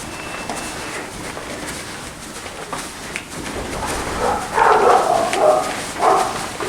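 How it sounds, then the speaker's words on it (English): A dog yips and barks inside a grand hotel building, a few short excited calls rising near the end over quiet indoor background. "Someone's got their doggy with them."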